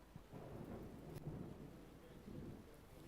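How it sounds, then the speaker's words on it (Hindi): Loud thunder rumbling during heavy rain, a deep continuous low roll with a sharp crack near the middle, over a steady rain hiss. "बहुत ज़्यादा ज़ोर से बादल गरज रहे हैं, बहुत भयंकर बारिश होने वाली है ना?"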